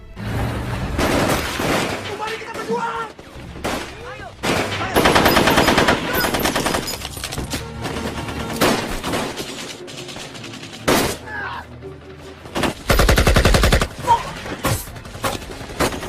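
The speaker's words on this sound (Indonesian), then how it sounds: "Tiba-tiba mereka dihadang oleh pasukan Belanda dan pertempuran tak bisa terhindarkan." Battle gunfire in an Indonesian war film, with Dutch troops ambushing fighters: bursts of machine-gun fire and single shots in loud, irregular clusters, mixed with booms and a dramatic soundtrack, and voices heard between the volleys.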